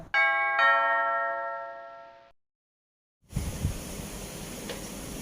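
A notification bell sound effect rings two bright chime strikes in quick succession, ringing out and fading over about two seconds, followed by silence and then a noisy room tone.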